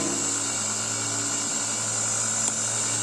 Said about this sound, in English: this is the drilling machine, very sophisticated drilling machine we have